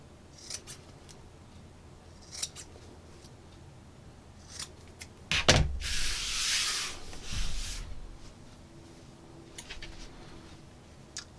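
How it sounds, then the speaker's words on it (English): Scissors clip the corners of layered fabric and burlap for a dish scrubber, with scattered soft snips and rustling handling, then a louder burst of cloth rubbing and shuffling in the middle. "I'm going to clip my corners"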